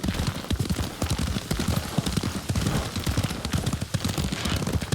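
Horse hooves in Ghost of Tsushima, a rapid, steady clip-clop of a galloping mount on a ride, loud and close with a faint windy background.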